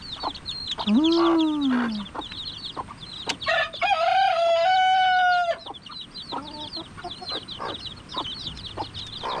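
Chickens cluck and chicks peep nearby while a rooster crows in a long drawn-out call, over a steady background of small chirps on a farm; a brief exclamation from a person is heard.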